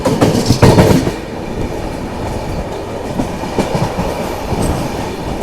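Inside the Gyaneshwari Express on its Kolkata to Mumbai run, a steady rumbling roll with rhythmic clickety-clack of wheels over rail joints, louder at first then settling into a continuous running drone.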